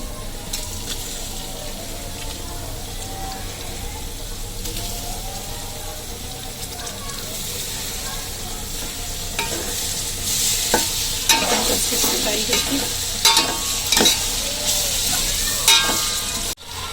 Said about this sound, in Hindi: अच्छा, तो चिकन हमारा अच्छे से फ्राई हो गया।